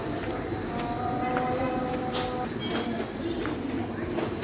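A train at a railway station, with low rumbling carriages and long tonal brake or horn whines drifting in and out, while people talk nearby.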